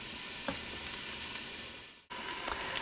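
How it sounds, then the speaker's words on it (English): Pork pieces searing in an Instant Pot for pulled pork sliders give off a steady, close, broadband sizzle that cuts out briefly near the end, then resumes with a few sharper crackles. "we're gonna put these in there and we're just gonna sear them on each side for about 2 or 3 minutes"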